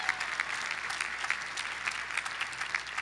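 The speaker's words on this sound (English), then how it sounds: "Give your college a round of applause for doing that." Graduates and guests at a commencement ceremony applaud, a broad, even sheet of clapping with occasional sharper individual claps standing out, sustained at full strength.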